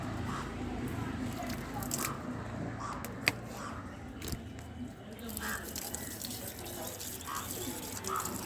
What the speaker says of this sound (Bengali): এখন আমি গাছগুলোকে জল দেবো।